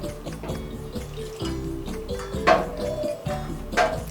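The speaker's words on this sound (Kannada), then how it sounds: "ನೀರು ಹಾಕೊಂಡು ಕಲಿಸ್ಕೊತೀನಿ" Gram flour batter for Maharashtra-style vada pav is stirred with water, giving wet drips and soft sloshing with a few sharper splashes, close up over a faint tonal background hum.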